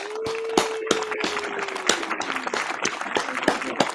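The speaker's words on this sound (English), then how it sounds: "Round of applause, all that for Miss Tiffany." Audience applause for a guest on a podcast, a dense patter of clapping with sharp individual claps standing out, accompanied by a sustained tone sliding slowly downward beneath it.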